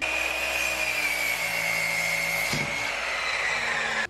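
A saw cuts steadily through a wooden board for a box shelf, with a continuous loud rasping drone that shifts slightly in pitch midway, close up and with no talk.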